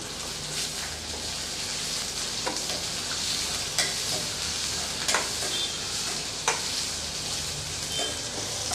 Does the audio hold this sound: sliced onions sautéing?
yes